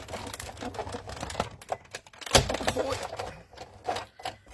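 A die cutting machine feeding a card through in a craft room, a short mechanical whirring and clicking with a sharp knock midway, close and moderately loud.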